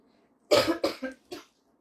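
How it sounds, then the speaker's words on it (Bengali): A woman coughs close by in a quiet indoor room, giving a short run of four harsh coughs, the first two strongest and the last fainter after a brief pause. "কাশি আরম্ভ বলেই আমার ভয় শুরু হয়ে যায়"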